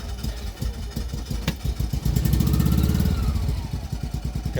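An Isetta microcar's small engine cranking and sputtering as it tries to start, a rapid, uneven chugging pulse that swells briefly and then falters, close by and alone.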